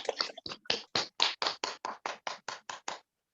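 Rhythmic clapping in an online Zoom meeting, about fourteen evenly spaced claps from what sounds like a single pair of hands close to the microphone, ending abruptly in silence.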